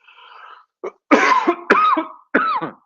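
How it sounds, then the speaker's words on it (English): A string of loud, close coughs, a quick hack followed by three harsh, throaty bursts with brief pauses between them. "I've got a little cough here."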